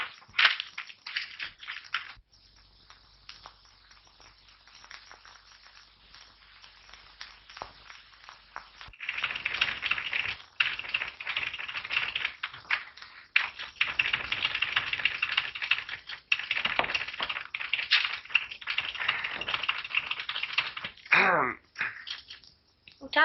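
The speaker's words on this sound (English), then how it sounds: "type it in red ink" Clattering keystrokes from a typewriter in a 1929 film, coming in rapid irregular bursts with brief pauses, moderately loud against a hissy, old-recording background with no talking.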